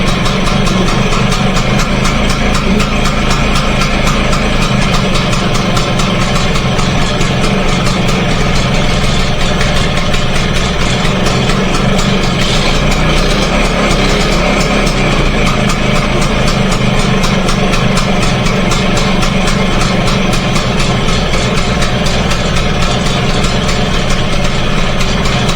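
A 1953 BSA Bantam D1 motorcycle engine idles steadily just after starting with the choke out, a loud, close, continuous rumble running throughout without pause.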